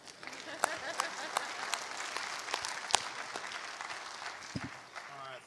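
Church congregation applauding during a live service, a steady wash of clapping with sharper individual claps standing out, moderately loud and continuous, with faint voices mixed underneath.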